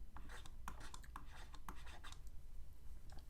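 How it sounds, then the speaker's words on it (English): Marker or chalk scratches across a board in short, repeated strokes during a trigonometry lesson, quiet and close with a few brief pauses and no talking. "I have to write it down"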